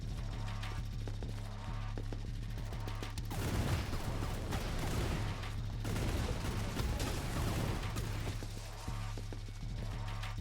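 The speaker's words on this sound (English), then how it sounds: "the bombs, they explode, unsurprisingly." Bombs blowing up in a spooky-season video game land as a dense run of crackling, popping bursts over a steady low hum, peaking in two louder clusters mid-clip.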